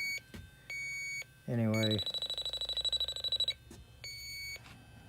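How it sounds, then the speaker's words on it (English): A handheld refrigerant leak detector beeps in a rapid, steady electronic pulse that speeds into a continuous tone at a Trane evaporator coil leak, with someone talking briefly before it. "the beeping and the sound of my leak detector here"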